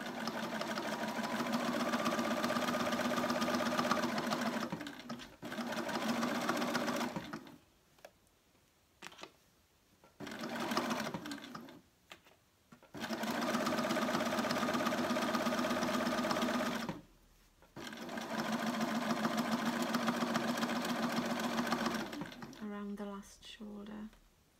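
A sewing machine runs in long steady bursts while stitching up the side of a fabric peg bag, each run broken by short pauses; a voice talks briefly between runs.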